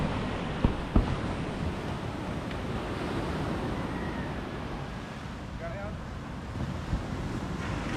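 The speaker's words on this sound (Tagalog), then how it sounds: "daming tao sa tabing dagat" Wind and surf at a crowded seaside beach form a constant broad roar with occasional microphone buffeting, and faint voices are mixed into the background.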